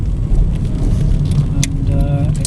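Vauxhall Astra 1.6 LPG dual-fuel estate car running on LPG during a test drive, its steady low engine and road rumble continuous throughout, with a brief whine near the end.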